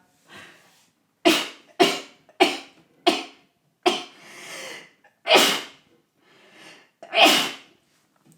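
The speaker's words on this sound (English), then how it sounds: "I have to sneeze." A series of loud, explosive sneezes, about seven in quick succession, each a sharp burst with breathy gasps and sniffles between them, close up.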